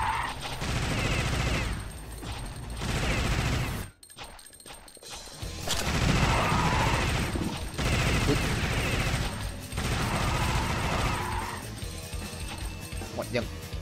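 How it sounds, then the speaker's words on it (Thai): Plasma gun fire in the Alien Shooter video game, loud bursts of rapid energy-weapon shots and impact crashes that come in sustained runs with brief gaps, under an ongoing dense game soundtrack. "พลาสมามึงเลยยิงแรงก็จริงแต่ว่ามันยิงรัวไม่ได"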